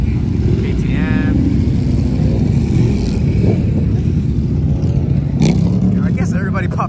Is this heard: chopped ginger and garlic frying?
no